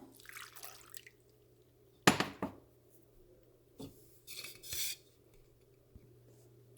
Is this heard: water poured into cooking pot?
yes